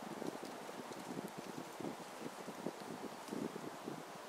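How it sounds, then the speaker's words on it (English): Steady outdoor wind buffets the microphone in the bush, a continuous rushing, blustery noise with light rustling throughout and no talking. "It's quite a wind actually right now."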